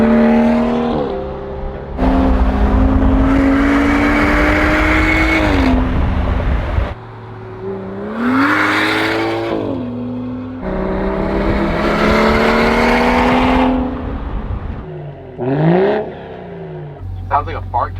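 A BMW 340i fitted with an AWE catback exhaust revs repeatedly, each rising blip followed by a drop back to a deep idle burble, loud and close, with several separate revs spread across the stretch.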